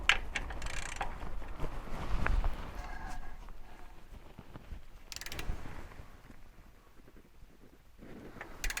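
Torque wrench set to 8 pounds tightening transmission pan bolts on a C3 Corvette, with quiet ratcheting, creaks and a faint click close by.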